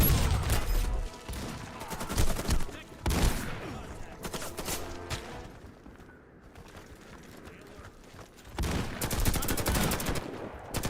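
Rapid bursts of video game weapon gunfire fired from the hip, loud close volleys separated by quieter gaps, with a final heavy burst near the end.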